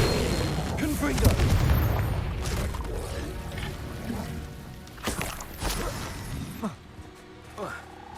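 Explosive Confringo spell blasts in the Hogwarts Legacy video game, a booming burst with shattering debris near the start, followed by smaller impacts and game effects over music, with a voice talking at points.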